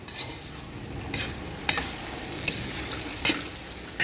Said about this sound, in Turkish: Bu şekilde ben kavurmaya devam edeyim.